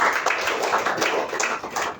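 Congregation in an Indonesian church breaks into lively, sustained applause for Jesus, a dense roomful of clapping hands with scattered voices mixed in.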